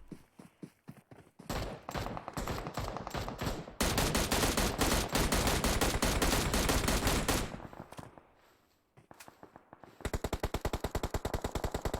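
Rapid automatic gunfire in PUBG Mobile plays in several long bursts of sharp, evenly spaced shots, loud and close, separated by brief pauses and a quieter stretch before a final fast burst, with no talk.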